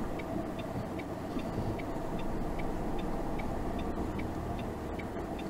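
Right turn signal of a car ticking steadily at an even pace during a driving test drive in Aix-en-Provence, the clicks sitting clearly above a constant low rumble of engine and road noise.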